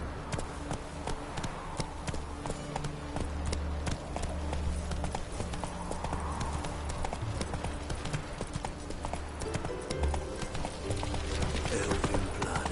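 A horse gallops through the city of Novigrad in the video game The Witcher 3, its hooves beating a steady, rhythmic clip-clop throughout, close and clear over low ambient game sound.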